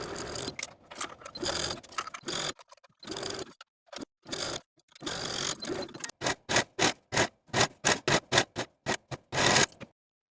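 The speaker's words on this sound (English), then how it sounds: "take it to your sewing machine and sew the sleeves into the armhole with a 5/8 inch seam allowance" A sewing machine stitches seams on a lace dress, setting sleeves into the armholes, in rapid mechanical bursts that start and stop repeatedly, ending in a quick run of short, evenly spaced stitching spurts, heard alone and close.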